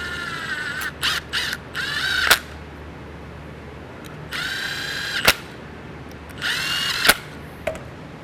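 A power driver snugs down T25 bolts on a plate during a transmission install on a 2019+ Ram with the 68RFE. Several short whirring bursts end in sharp clicks, loud and close, with quiet gaps between them.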